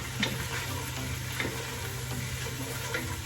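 Garlic and ginger fry in a pan with a steady, close sizzle, broken by a few soft stirring scrapes spaced through the short stretch, with no voices.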